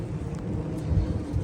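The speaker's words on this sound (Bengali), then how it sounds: "এখন যেহেতু বৃষ্টি হচ্ছে" Steady rain falls along the bank of the River Thames in London, a dense broadband hiss with a low rumbling undertone that runs continuously through the short stretch without any talking.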